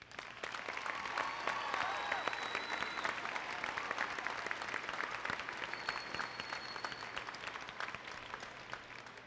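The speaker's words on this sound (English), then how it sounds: "please give them a round of applause" Audience applause at a 2016 Interboro High School graduation ceremony, a steady dense clapping from a large crowd that holds for about nine seconds, with a few faint whistles rising over it.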